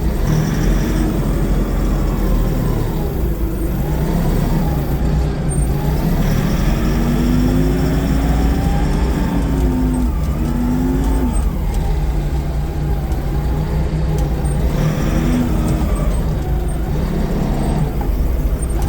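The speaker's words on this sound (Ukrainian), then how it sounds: "Все, навантажувач поїхав. Коробка передач автомат. Ось він їде." A Toyota 6-ton diesel forklift with automatic transmission pulls away, its engine droning close by with rising and falling revs and a faint high whine, steady for the whole stretch.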